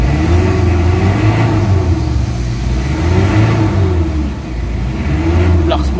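A Mitsubishi Adventure engine with throttle delay, vibration and low power revs steadily at mid pitch with a rising and falling tone, heard close over a continuous engine drone, with a brief higher whine near the end.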